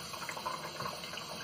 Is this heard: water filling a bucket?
yes